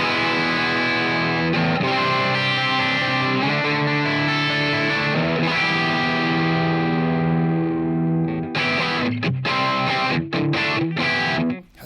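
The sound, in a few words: distorted electric guitar through amp model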